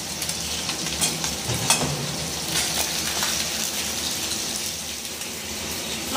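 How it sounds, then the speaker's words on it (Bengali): Mourala fish frying in hot oil gives a steady, dense sizzle with crackling spatters and occasional stirring, close and fairly loud, with no voices. "মোড়লা মাছ এখানে ভাজা হচ্ছে"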